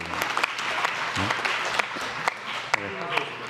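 Applause from a science and technology policy briefing audience, a steady wash of many hands clapping with sharp individual claps standing out, while a voice talks over it.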